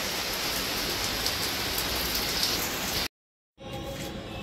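Steady, dense rainfall hisses evenly for about three seconds, then stops abruptly in a short silence before the downpour resumes at a similar level. The rain is wetting a hibiscus plant on a rooftop.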